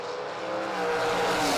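A Ford Maverick and a Chevrolet Camaro launch side by side at a drag strip, their engines roaring in a loud, rising blast that swells and holds through the run.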